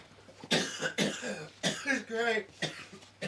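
Several sharp, breathy coughs burst out in quick succession, close to the microphone, with short pauses between them.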